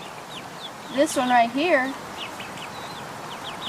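Hens clucking near at hand among a flock of chickens with a rooster, a short burst of warbling clucks in the middle and fainter chirps around it, while someone talks over them.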